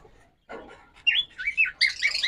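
Pet birds in a shop chirp and squawk nearby in a quick series of sharp, high calls, getting busier after a soft opening rustle.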